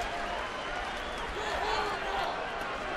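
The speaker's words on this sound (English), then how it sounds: "So Buddy Black will leave to a nice round of applause" A baseball stadium crowd gives a steady round of applause as a manager leaves the field, a broad distant wash of clapping under a play-by-play announcer's voice.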